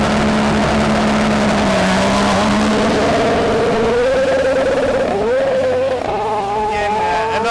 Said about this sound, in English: Let's just get this car off the line quickly.